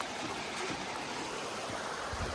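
Rock Creek flows beneath a slick bridge along the Foothills Trail before dawn, a steady, close wash of running water with no pauses or voices.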